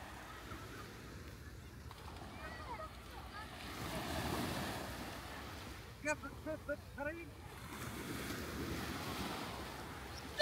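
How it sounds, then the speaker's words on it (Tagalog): Sea waves washing onto a beach, a soft steady surf wash with some wind noise and a few gentle swells, while people talk quietly nearby. "Ganda ng dagat oh."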